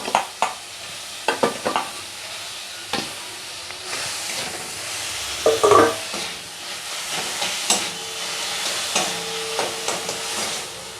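Chhena being stirred into melted sugar in a pan for sandesh filling, with a steady close sizzle and hiss broken by repeated scraping strokes of a spoon against the metal.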